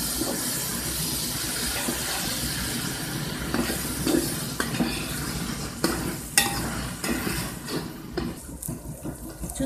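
Ginger garlic paste frying in a large cooking pot, a continuous hissing sizzle with irregular scraping and clanking stir strokes throughout.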